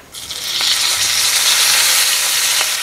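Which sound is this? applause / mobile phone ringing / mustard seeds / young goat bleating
mustard seeds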